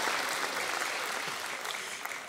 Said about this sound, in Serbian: Veliki aplauz za Petra Krekića koji se izborio za direktan plasman u naredni krug.